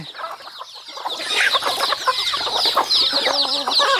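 A flock of chickens clucking and squawking together, busy overlapping calls building up after a quieter start, close by and fairly loud.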